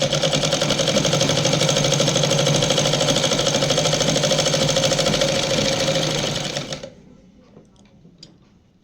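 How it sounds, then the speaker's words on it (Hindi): A sewing machine runs a straight stitch along a petticoat, a loud, steady rapid mechanical whirring that holds for about seven seconds and then stops abruptly, leaving faint handling noises. "अब ये सीधी सिलाई कर देंगे, यहाँ से पकड़ के ऐसे।"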